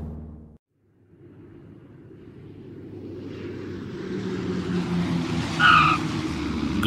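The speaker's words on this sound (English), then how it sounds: "Small plane coming in to land." A small cartoon airplane comes in to land at an airport. Its engine drone builds steadily after a brief silence, and a short tire screech comes near the end, with no talking.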